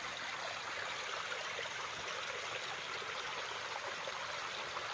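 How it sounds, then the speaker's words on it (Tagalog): Small stream flowing from a spring on a farm lot beside a river, a soft, steady trickling rush of water, fairly faint and continuous, with no talking. "Kasi ito yung sapa."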